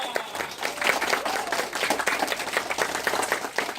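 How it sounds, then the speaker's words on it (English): Classroom audience of elementary students applauding a team during a school presentation, a dense steady patter of many hands clapping close by, filling the whole stretch without a break. "A round of applause for him,"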